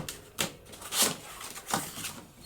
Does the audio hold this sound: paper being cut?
yes